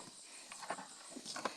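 A young carabao walks at a quick pace, its hooves clopping faintly and unevenly in a quiet outdoor setting, with no talk over it.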